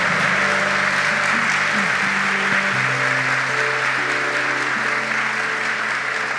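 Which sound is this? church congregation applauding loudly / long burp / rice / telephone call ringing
church congregation applauding loudly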